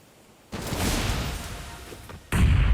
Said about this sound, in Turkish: Deyince gelen o bomba